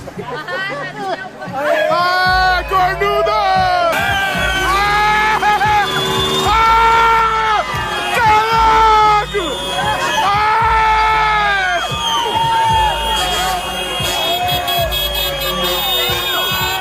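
A crowd cheers, screams and whoops continuously in a played clip, loud and dense, with layered voices and some music-like tones rising over the din throughout.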